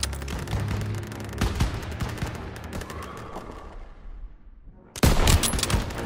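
Gunfire in the Call of Duty WWII video game, loud dense bursts of rapid shots that thin out into a fading tail before another sharp volley erupts near the end.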